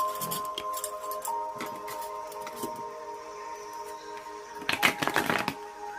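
Tarot cards shuffled and cut by hand, a soft papery riffle and flutter running throughout under a faint steady hum, with a louder burst of quick card slaps near the end.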